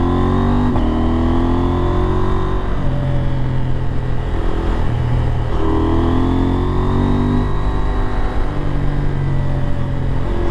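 A KTM 890 Adventure R Rally twin-cylinder motorcycle carves a twisty mountain road, its engine droning steadily and loud throughout, rising and falling in pitch through gear changes and throttle blips with constant wind rush.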